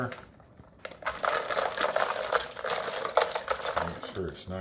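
Water is poured into a bowl of ice to make an ice bath for cooked cocktail shrimp, a close splashing and trickling with faint ice rattle, starting after a brief quiet moment and fading near the end.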